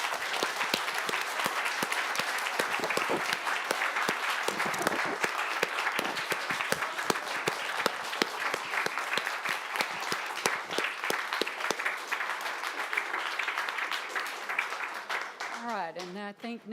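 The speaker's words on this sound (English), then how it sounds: "I invite everyone now to please give both teams a round of applause." Sustained applause from the audience for both teams at a state mock trial championship round, many hands clapping steadily and fairly loudly for over fifteen seconds, tapering off at the very end.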